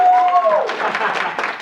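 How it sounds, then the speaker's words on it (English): A workshop audience at Nevada State College breaks into a short burst of lively clapping, with a voice briefly audible at the start. "Wow, round of applause."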